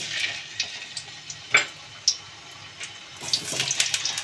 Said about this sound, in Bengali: তেলটা গরম হয়ে গেছে, এখানে আমি আস্তে আস্তে আলুগুলো দিয়ে দেবো